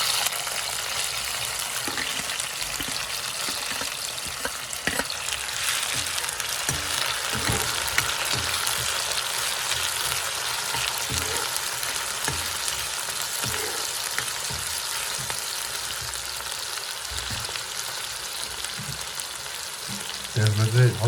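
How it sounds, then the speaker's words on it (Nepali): Onions frying in hot oil with fenugreek and five-spice for chicken thukpa, a steady close sizzle throughout with intermittent scraping stir strokes in the pan. "प्याजमा चाहिँ हल्का ब्राउन हुन्छ चाहिँ मजाले यसलाई भुट्नुपर्छ"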